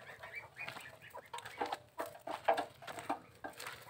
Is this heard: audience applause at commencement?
no